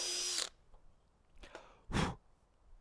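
A handheld power drill drives screws while mounting wireless bridge gear: a loud close whine for about half a second, then two shorter bursts of drilling, with quiet room pauses between.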